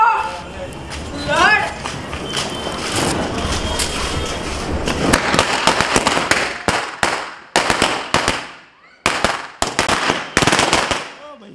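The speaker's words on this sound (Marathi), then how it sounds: "हे कुठल्या कुठे येत आहे लडचे फटाके" A long string of Diwali firecrackers rattles off in a street, dense rapid pops merging into a continuous crackle that breaks into separate sharp bursts near the end, while people talk throughout.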